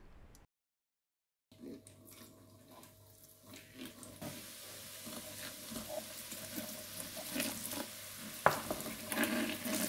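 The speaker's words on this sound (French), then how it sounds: "il y avait 3 éléments dedans que je vais venir faire baigner dans un saladier avec du bicarbonate de soude et du vinaigre" Baking soda and vinegar fizz and crackle in a salad bowl holding bathroom drain parts. After a short silence, the bubbling hiss rises and swells steadily, close and fairly quiet.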